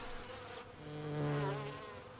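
Bees buzz near a New York street, a faint drone that rises and swells in the middle and then fades again.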